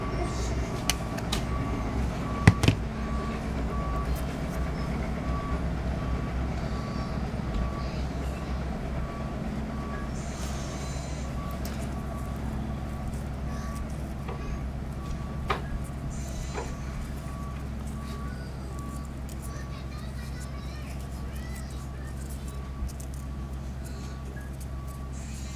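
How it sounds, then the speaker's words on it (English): Reversing beeps from trucks repaving a road outside a house sound at a steady, evenly spaced rhythm, faint and distant under a continuous low rumble of machinery, with a couple of sharp knocks. "Sorry if you hear all the beeping, they're doing construction outside my house today."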